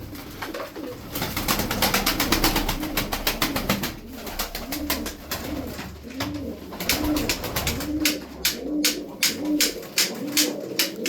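Healthy pigeons kept in a wire cage coo steadily in soft, repeated rolling phrases, several birds overlapping close by, with fluttering and rustling throughout.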